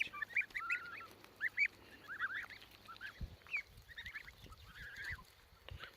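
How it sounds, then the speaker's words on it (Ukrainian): High, thin peeping calls from young goslings repeat in short bursts, with soft thumps and rustling underneath in the second half. "Ось така гусеня"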